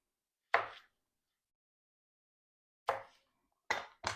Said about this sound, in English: On the larger Brussels sprouts, I'm gonna snip off the ends and I'm gonna quarter them.